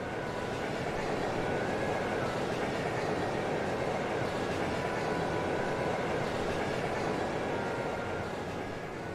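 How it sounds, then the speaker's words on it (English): Steady rumbling drone of a train ride in the video game Trails of Cold Steel, a continuous even roar with a faint tonal hum and no talking. "We're on another train."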